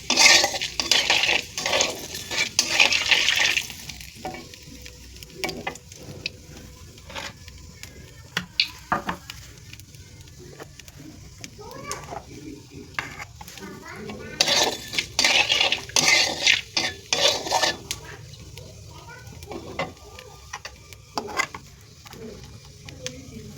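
Cumin seeds and chopped onion fry in a pan while mushroom masala is cooked, giving intermittent sizzling bursts with frequent clinks and scrapes of a spoon against metal cookware, close by, with no talk.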